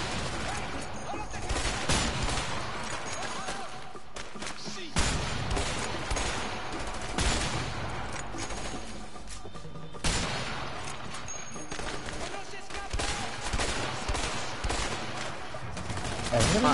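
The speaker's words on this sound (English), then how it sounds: "Aku tembak tu." Sustained gunfight in the game A Way Out: repeated volleys and sharp shots, with several heavier cracks and a long, continuous crackle, while voices talk over the shooting.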